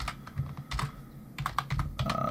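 Fingers tap out a login on a computer keyboard in quick irregular clusters of clicky keystrokes, recorded close up with short pauses between bursts.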